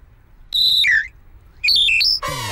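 A whistle is blown in two wavering, off-key bursts, each about half a second long and fairly loud, and a brief harsh voiced sound follows right after in an otherwise quiet room.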